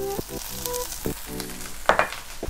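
Sesame oil sizzles in a pan of egg fried rice, a loud close frying hiss with a few scraping stirs and clinks, no talking.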